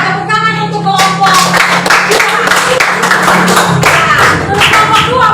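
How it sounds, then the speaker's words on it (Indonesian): A classroom claps for a student group, a burst of hand claps starting about a second in and running to the end, with a teacher's voice heard at the start. "Oke, tepuk tangan untuk kelompok"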